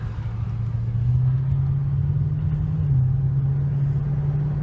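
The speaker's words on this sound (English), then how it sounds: "the car drives super smooth, really smooth" A Lexus GS400 on a test drive, its engine holding a loud, steady low hum with a slight rise and dip in pitch, road rumble underneath, no voices over it.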